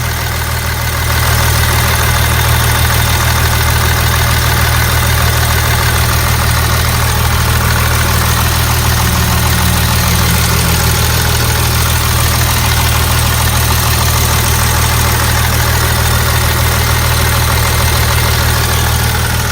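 An Opel Vectra engine idles loudly and steadily, with a constant low rumble and a rough, puffing exhaust note throughout from an exhaust leak.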